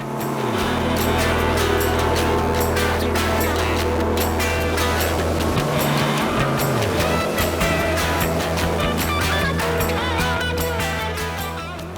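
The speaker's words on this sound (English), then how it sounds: "We headed out the Fort Pierce Inlet and opened up the throttles on this twin-engine Pursuit." A twin-engine Pursuit S 328 boat runs at full throttle through chop off the Fort Pierce Inlet, its engines droning loudly and continuously while hull slaps and spray churn throughout.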